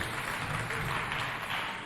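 Audience applauding a team at a cultural centre quiz contest, a steady, fairly faint wash of many hands clapping at once without pauses.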